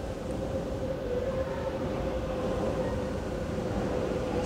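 An MRT metro train arriving at a station gives a loud, steady rumble with a sustained tonal hum and constant rail noise throughout, with no talk.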